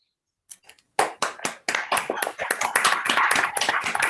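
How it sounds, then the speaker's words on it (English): A small online audience applauding a speaker after a talk, scattered claps starting sparsely and then thickening into steady, close-miked clapping from several people. "so we can give Andy a round of applause"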